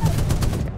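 Gunfire in a video game, a short, fast burst of several muffled shots in under a second.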